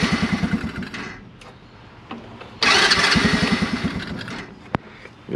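A 1975 Chevy Vega Cosworth engine cranks with rapid rhythmic starter chugs, falters, cranks again, then catches and runs loudly nearby before a sharp click.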